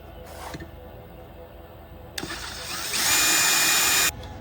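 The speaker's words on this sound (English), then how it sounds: "we're going to drill this hole out" A power drill with a 5/16-inch bit whirs in a short, loud burst lasting about a second, drilling out a hole for step brackets, after some handling noises and a brief earlier spin-up.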